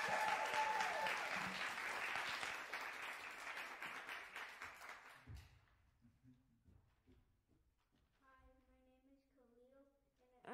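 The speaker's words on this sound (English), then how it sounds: "Hoop, holler, and clap for these performers." Audience clapping and cheering at a home music lessons student recital, loud dense applause for about five seconds that fades out, followed by quieter sounds and a brief tonal instrument note near the end.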